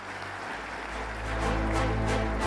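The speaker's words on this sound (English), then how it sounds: "a nice round of applause for her" Round of applause from the audience at the Global Cybersecurity Forum 2024 opening ceremony, a steady wash of clapping that swells louder in the second half over a low hall hum.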